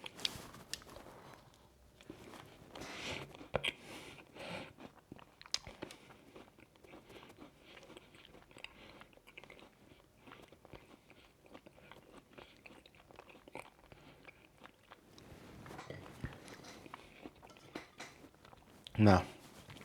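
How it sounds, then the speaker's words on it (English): Someone biting and chewing a shop-bought mince pie during a taste test, soft crunchy bites and wet mastication sounds close to the microphone, with brief talk at moments and a louder crunch near the end. "let me taste it"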